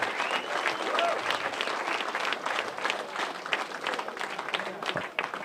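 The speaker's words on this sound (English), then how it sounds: "let's give him one more bigger hand of applause" Hearty audience applause at a recovery month celebration, close and dense clapping with some crowd voices mixed in, steady throughout and tapering near the end.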